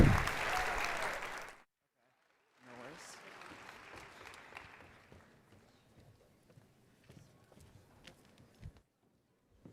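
Audience applause at a TechCrunch Disrupt 2025 conference session, a dense burst of clapping for about a second and a half, then a quieter scattered patter of claps and room noise under talk.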